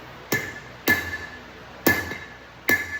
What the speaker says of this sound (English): I could pop it with a hammer if I want to make it